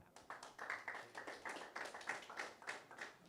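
Clapping at an MMA weigh-in event, a modest group heard faintly and at a distance, giving rhythmic, somewhat uneven claps.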